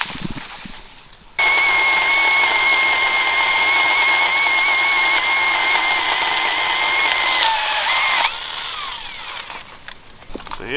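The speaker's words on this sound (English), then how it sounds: "I brought my trusty dusty electric pole saw here, the Amazon special" An inexpensive electric pole saw trims branches outdoors, giving a loud, steady motor whine with a high tonal edge that runs for several seconds before cutting off, leaving quieter ambient noise.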